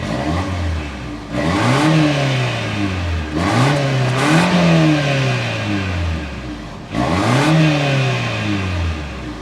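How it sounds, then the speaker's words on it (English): A 2023 Lexus RX 350 Luxury turbocharged four-cylinder revs up three times with no one speaking. Each burst rises in pitch and falls back to a steady idle hum, close and fairly loud. "start up this Turbo 4 so you can hear that exhaust note"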